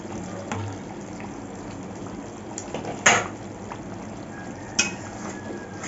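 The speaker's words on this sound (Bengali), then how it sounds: "ভালো করে নাড়িয়ে নিচ্ছি আমার ধাবা স্টাইল চিকেনটা" A dhaba-style chicken curry being stirred in a pot, heard as a soft, steady simmering bubble under occasional sharp metallic clinks of a spoon against the pot, two of them standing out clearly, close by and fairly quiet.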